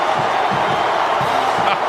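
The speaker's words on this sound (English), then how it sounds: "Listen to the crowd." A stadium crowd at the Oklahoma versus Texas football game roars as the Oklahoma team runs onto the field, a loud, sustained wash of cheering with scattered whoops and shouts.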